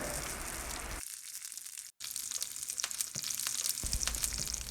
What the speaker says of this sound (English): I'm going to give that a quick stir.